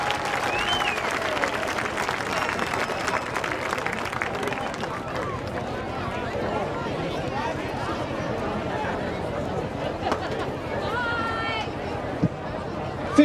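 A crowd at a varsity high school football game, Goshen versus Mishawaka, applauds in a loud, continuous roar of clapping and chatter over thirteen seconds, with some voices and a few whistles mixed in.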